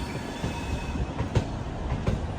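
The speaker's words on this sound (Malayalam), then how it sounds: "ട്രെയിൻ ഇതാ കർണാടകയിലെ മൈസൂരുവിലേക്ക് എത്തിയിരിക്കുകയാണ്" An express sleeper train pulls into Mysuru in Karnataka after a long run from Thoothukudi, a steady rolling rumble of wheels with a few sharper knocks from the rail joints, close and continuous, with no voices.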